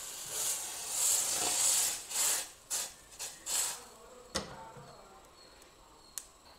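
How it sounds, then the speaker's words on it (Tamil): Milk for masala tea bubbles and simmers on a low flame, with several surges of frothy hissing that fade into sparse soft pops and crackles, close and quiet. "பாருங்கள் நல்லா பால் கொதி வருது"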